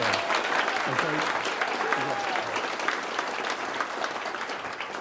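Sustained applause from a room of people at an awards ceremony, steady and fairly loud across the whole span, with a few voices faintly audible beneath the clapping.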